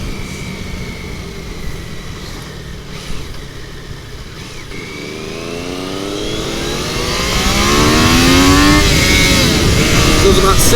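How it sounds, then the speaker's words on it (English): Triumph Daytona 660 motorcycle accelerating hard in first gear, engine note climbing steadily from a lower drone to a loud, high rev with wind rush, heard from on the bike with no talk. "Goes about 60 mile an hour in first gear."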